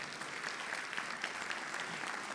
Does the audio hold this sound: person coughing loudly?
no